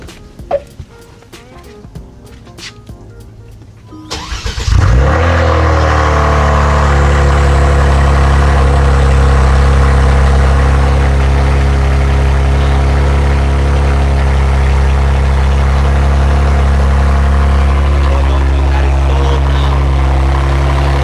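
A straight-piped Kia Stinger with turbos starts up after a few seconds of small clicks and handling noises, then settles into a loud, deep, steady idle rumble that drones on without let-up.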